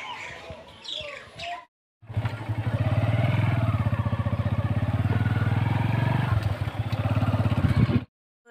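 A motorcycle sets off and rides along a road, its engine a steady close buzzing drone after a short pause, with bird chirps and clatter faintly mixed in at the start.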